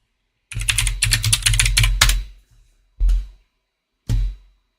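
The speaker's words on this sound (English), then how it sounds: "Let's type that." Fast, close clatter of typing on a computer keyboard during a live stream, a dense two-second burst of keystrokes followed by two single heavier key presses after short pauses.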